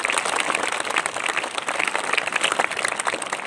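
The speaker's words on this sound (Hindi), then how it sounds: "एक बार जोरदार तालियां बजाओ ममता के लिए" Audience applause for Mamta Yadav, UPSC rank 5, at a motivational speaking event: a dense, steady wash of many hands clapping at once, fairly loud and sustained throughout with no talk over it.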